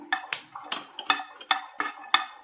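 Whole spices including cinnamon, cloves, cardamom and stone flower dry roasted in a pan, with a metal spoon scraping and tapping in a steady rhythm of about eight sharp strokes, close and clear without talk.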